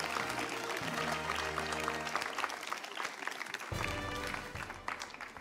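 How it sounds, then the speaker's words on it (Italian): An audience at a festival closing award ceremony bursts into sustained applause. The clapping is busy and continuous over a low tonal hum that cuts out briefly midway. "Un applauso a Marco."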